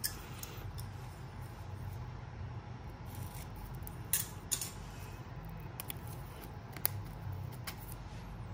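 Plastic wrapping being tugged and torn open on a Chinese military ration bar, a few sharp crinkles and snaps scattered over a quiet low hum, close and soft.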